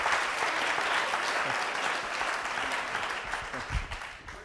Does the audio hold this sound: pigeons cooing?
no